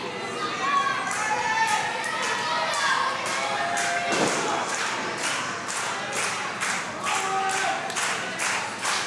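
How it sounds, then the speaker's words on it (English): A wrestling crowd in Houston Premier Arena cheers and claps in a continuous dense roar. Rhythmic unison clapping builds toward the end, with occasional thuds from the ring. "This crowd here in Houston Premier Arena trying to will up Ryan Davidson back to his feet"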